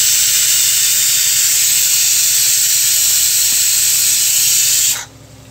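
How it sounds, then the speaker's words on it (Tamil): Masala frying in oil in a pan for a Chennai-style biryani gives a loud, steady sizzle with bright hiss, running continuously before it cuts off sharply near the end. "இந்த மசாலாவை நல்லா வதக்கணும்"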